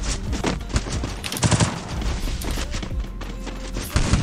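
Gunfire in a video game: rapid overlapping bursts of shots, loud and close, with dense fusillades and sharp single cracks in a busy battle mix.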